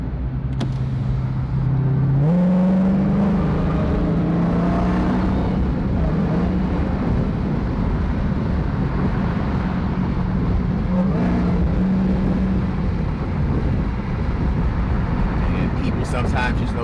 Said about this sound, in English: Let you guys just hear the exhaust